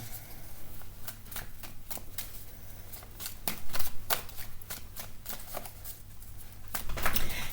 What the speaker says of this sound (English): just while we're shuffling here